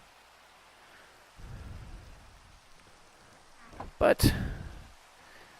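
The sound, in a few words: rain in the video game Minecraft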